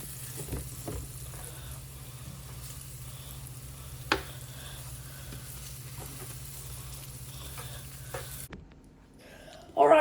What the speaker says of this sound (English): After putting your meat in the hot grease, it really don't take that long.